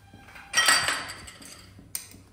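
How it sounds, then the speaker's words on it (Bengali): Momos are tossed with sauce in a pan, giving a single clattering metallic scrape and rattle that fades over a second, then a sharp small clink. "এবার আমি এই সসটা দিয়ে টস করব।"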